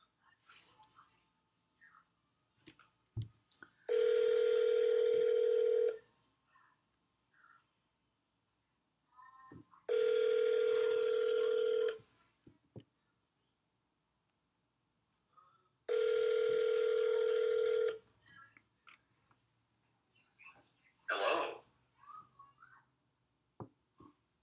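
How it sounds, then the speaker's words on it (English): Three long, steady electronic telephone tones sound one after another at even intervals while a call is placed to a home phone number for final expense appointment setting, with short pauses and faint background noise between them. "We're going to call the home phone now."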